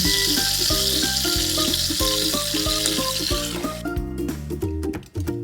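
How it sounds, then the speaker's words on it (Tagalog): A pork hock fries in a pan with a loud, constant sizzle, joined by rhythmic knocking and scraping from a utensil, fading slightly near the end. "Then fry the pork hock until brown and set it aside."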